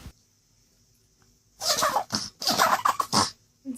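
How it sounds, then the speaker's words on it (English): A dog sneezes several times in quick succession, each one a short, breathy snort, close and fairly loud after a quiet start. "this dog has the cutest sneeze"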